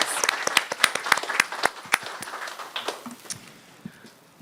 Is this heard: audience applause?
yes